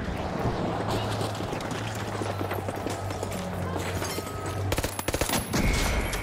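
Rapid gunfire in a first-person shooter video game, a dense run of sharp shots under a steady tonal hum, with louder cracks near the end.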